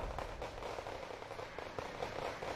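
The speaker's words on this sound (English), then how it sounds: "Artillery is doing a really good job." Artillery fire in the strategy game Wargame: Red Dragon, a dense crackling roll of distant shell bursts and rumble, continuous and fairly even in loudness, with no voices.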